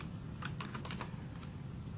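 Rapid irregular typing on a computer keyboard, a cluster of soft clicks over steady background hiss, fairly faint and with no talk.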